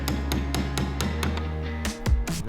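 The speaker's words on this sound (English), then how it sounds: "So I'm using my chisel to break that all apart." Chisel hammered to break apart panel-bonded car body sections on a wrecked Ferrari 296 under rebuild, giving repeated sharp metallic strikes in a steady rhythm, close and loud, followed by a heavier clunk near the end.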